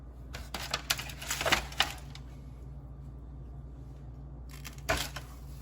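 Knife slicing through plantain on a cutting board, a run of crisp close cuts and taps, then a quiet pause, then two more short cuts at the end.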